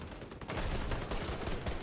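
Pistol fire in the video game XDefiant, a dense burst of sharp repeated shots that fills the whole stretch at steady loudness, with no one talking.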